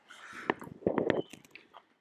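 Someone bites into crunchy fried lumpia with chili sauce, giving a few close, sharp crunches around the middle of a short stretch, followed by soft chewing and mouth sounds.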